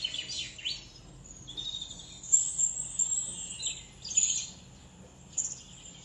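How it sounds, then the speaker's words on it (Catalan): Wild birds singing outdoors, with robins, tits, woodpeckers, blackbirds and goldfinches among them, heard from a rooftop. Several high chirps and short phrases overlap faintly at a distance, alongside soft insect-like trills. "escoltant pit-rojos, mallarengues, picots i carrossers, raspinells, bruels, merles"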